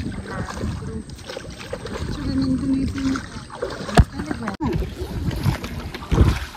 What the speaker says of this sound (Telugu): ఆ బోటింగ్ చేసేటప్పుడు ఆ వాటర్ సౌండ్స్ కానీ అదంతా కొంచెం బాగుంటుంది